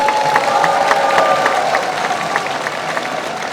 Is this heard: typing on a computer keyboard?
no